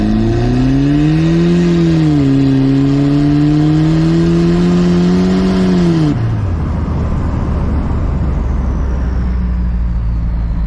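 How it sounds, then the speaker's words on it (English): A car with a ported internal-wastegate turbo pulls away on worn tires, its engine droning and climbing steadily in pitch before a sharp shift into a rushing roar of road and wind noise, loud and close throughout. "Okay, so we'll start off and drive."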